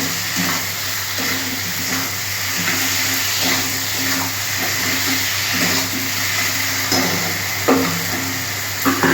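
Fried potatoes and spice paste sautéing in hot oil in a pan for a catla fish curry with pumpkin, a steady loud sizzle with occasional scraping stirs, close up and without talk.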